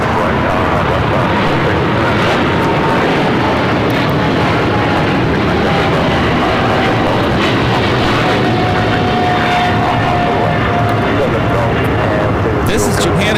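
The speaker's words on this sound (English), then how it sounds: "This is Japan Airlines Flight 15 taking off to Tokyo Haneda on the 777-300ER." A Japan Airlines Boeing 777-300ER takes off at LAX, its jet engines giving a steady, loud, broadband roar that holds for the whole stretch with no pauses.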